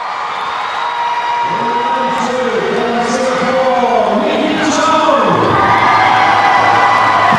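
A big crowd cheers and shouts loudly at a short track ice skating final of the SEA Games, a continuous roar of voices and whoops in a large arena, steady and sustained throughout.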